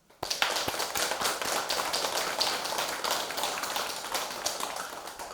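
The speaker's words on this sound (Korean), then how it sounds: "수고해 주신 분들께 또 큰 박수 한번 칩시다." A Buddhist temple congregation at a Buddha's Birthday dharma service claps together, dense steady applause lasting several seconds after starting abruptly, fairly even in loudness with no voices over it.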